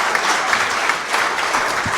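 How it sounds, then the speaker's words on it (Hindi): An audience at a Hindi poetry recital claps in a dense, even burst of applause that carries through steadily and fairly loud. "एक बार ताली बजाइए बढ़िया से।"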